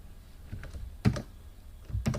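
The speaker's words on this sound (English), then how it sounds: "Look at, so like I am typing here," Keys on a computer keyboard are pressed in short bursts, with a few soft taps followed by two louder clusters of clacks at close range and quiet pauses between them.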